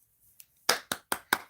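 Four quick, close hand claps in an even rhythm after a faint tap, crisp and isolated in a quiet room during a math lesson.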